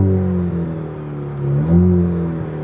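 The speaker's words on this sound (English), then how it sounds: "It's got a good sounding exhaust" Steady low rumble of a Mercedes C63 AMG's engine idling through its exhaust, swelling briefly as it revs, close and fairly loud, with no voices.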